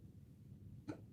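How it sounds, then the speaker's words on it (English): A single sharp hiccup sounds once, close and quiet, near the end of a short, otherwise hushed moment. "Hiccups."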